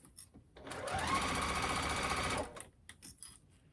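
Sewing machine stitching minky fabric for an infinity scarf, running in one steady continuous burst of about two seconds, loud and close, with quiet handling noises before and after.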